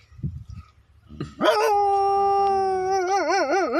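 A big dog nearby lets out a loud, sustained howl after a few brief low sounds. The howl rises sharply, holds steady, then wavers up and down toward the end.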